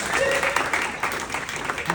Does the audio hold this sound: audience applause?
yes